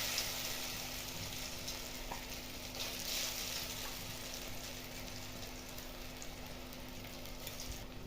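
Ground green peas fry in white oil with black cumin and asafoetida in a wok, giving a steady, quiet sizzle with occasional stirring scrapes and no talk.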